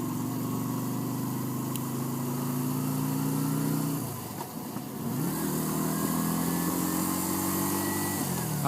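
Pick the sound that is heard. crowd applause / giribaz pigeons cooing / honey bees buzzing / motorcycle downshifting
motorcycle downshifting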